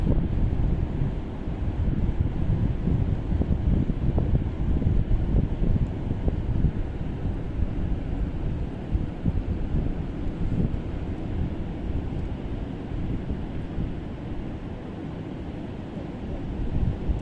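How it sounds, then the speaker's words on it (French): Continuous rushing Atlantic Ocean surf fills the scene, waves washing in and out under strong gusts of wind rumbling across the microphone. "Laissez-vous détendre par le son des vagues et leur mouvement de va-et-vient."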